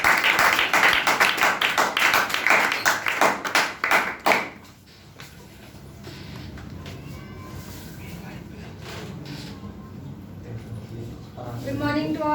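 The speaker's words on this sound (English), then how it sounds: "well done, clap for Kumkum." Audience applause for a public speaking session participant named Kumkum, a dense burst of clapping lasting about four seconds that fades into quiet room noise, followed by a voice beginning to speak.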